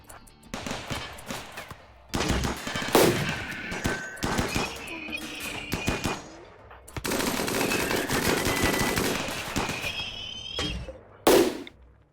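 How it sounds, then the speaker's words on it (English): Rapid machine-gun bursts and single shots crackle through a RimWorld firefight, loud and dense with brief pauses, joined by a sharp squealing tone and a few sudden louder blasts near the end. "Okay, looks like you're getting shot at."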